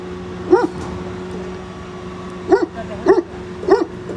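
A dog barks outdoors during a violent windstorm: four short, sharp barks, one near the start and three spaced close together toward the end, sounding moderately near above a steady rush of wind.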